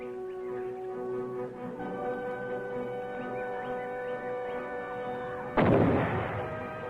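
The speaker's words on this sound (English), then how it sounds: "Tripped by foot, the weight of the falling rock pulls the pin to activate the grenade." A grenade blasts in a Viet Cong falling-rock booby trap, where the dropping rock pulls the pin. One sudden, loud, sharp explosion breaks in near the end over a steady droning background, then slowly fades.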